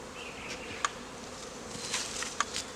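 Honeybees buzz around a hive kept for raising mated queens, a faint steady hum with a few individual bees zipping close past in brief louder passes.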